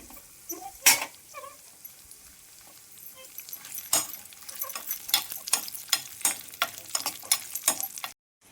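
Cashews and raisins in a hot ghee tempering pan for rice-flour tambittu sizzle softly, broken by a series of sharp spoon clinks and scrapes against the metal that come faster toward the end. No one speaks.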